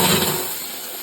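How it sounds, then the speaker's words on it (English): A running shower gives a steady, close broadband hiss of water spraying from the head, holding an even level throughout with no voices. "So I've just tested the shower now."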